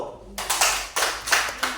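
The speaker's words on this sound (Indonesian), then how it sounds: "Tepuk tangan dulu." Classroom students clapping together, a few short bursts of hand claps in quick succession, close and moderately loud, with some voices mixed in.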